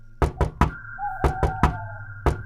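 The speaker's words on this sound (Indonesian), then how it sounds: "mengetuk pintu rumah tersebut" Knocking on a wooden house door in a rural village comes in two quick sets of three firm raps, then a single rap, close and loud over a faint steady hum.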